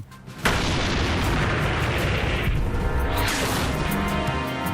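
A massive, loud boom from a German Panther tank's cannon erupts suddenly, followed by a long, rumbling roar that sustains and slowly fades.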